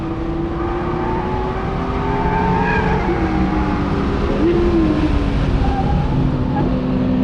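Low-grip tires on a Toyota GR86 squeal through corners on a race track, a loud, sustained wavering screech over steady engine drone, continuous through the whole stretch.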